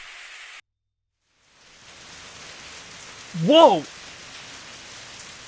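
Heavy rain in the Steins;Gate video game hisses steadily, cutting out for a moment and then returning as a full downpour, with a short startled exclamation rising over it midway.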